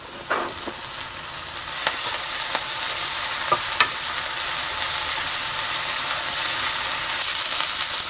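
Napa cabbage hits a hot pan for a Chinese-style oyster soup, giving a steady close sizzle and frying hiss, with a few light clicks and scrapes of stirring.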